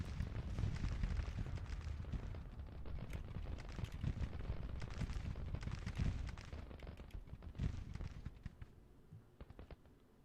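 Whitworth rifles fire in a Civil War strategy battle, a dense, continuous crackle of massed musketry and booms that thins toward the end.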